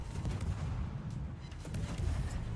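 Naval gunfire in World of Warships pounds a warship as a dense, rumbling barrage of low booms and impacts, overlapping and continuous, fairly loud throughout.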